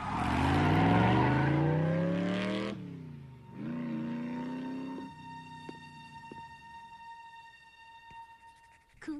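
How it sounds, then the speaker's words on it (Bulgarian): Motorcycle engine from the animated show Transformers Prime revs up in a rising whine for about three seconds, then drops away to a lower idle hum with a faint high tone lingering. "Това е най-якия мотор на света."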